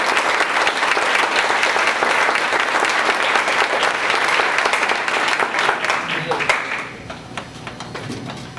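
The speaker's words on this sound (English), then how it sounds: "I'd like to give him a round of applause" An audience applauds at a high school nationals event, giving a dense, loud round of clapping that thins out toward the end, with voices faintly audible underneath.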